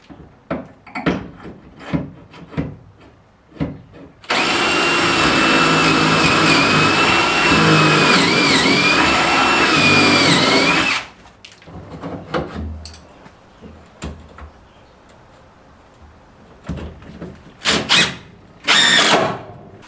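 A power drill drives stainless steel screws into a shower pan in a truck camper build: one long, steady motor whine of about seven seconds, close and loud, framed by scattered knocks and handling clatter before and after.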